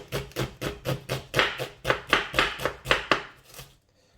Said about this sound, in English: And the last half, you're going to chop like this.